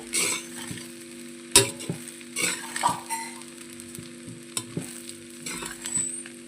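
Potatoes being stirred into rice in a pan for Telugu-style aloo rice, with a steady sizzle under repeated scraping and stirring strokes and a few sharper clinks of a spoon against the pan.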